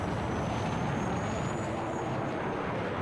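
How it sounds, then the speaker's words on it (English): Jet aircraft roaring overhead in the video game Battlefield 6, a dense, steady broadband rush with a faint high whine, loud and continuous without talk. "I feel like I have a jet on my arse here."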